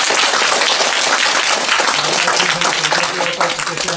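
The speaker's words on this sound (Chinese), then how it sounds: "最后呢我们以热烈的掌声感谢钟教授。" A lecture audience at a university applauds warmly after a talk on translation, dense sustained clapping filling the room throughout, with a voice speaking faintly beneath it.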